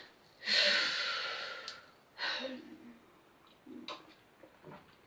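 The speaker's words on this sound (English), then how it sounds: "He took a deep breath." A deep breath in a radio drama, drawn in audibly and close, followed by a couple of softer exhalations and breaths spaced across a few seconds in quiet surroundings.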